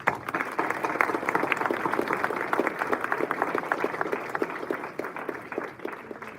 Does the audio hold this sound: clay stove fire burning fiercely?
no